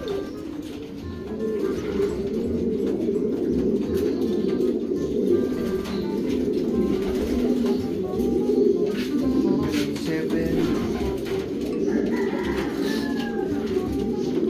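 Racing pigeons coo steadily and densely at a one loft pigeon race, with a continuous low murmur of many birds close by and occasional faint chirps and wing flaps, without talk.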